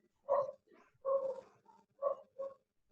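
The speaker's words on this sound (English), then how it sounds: "Can you hear them? Can you hear the dog?" A few short barks from a dog, spaced irregularly over a few seconds and heard at a slight distance, with quiet gaps between.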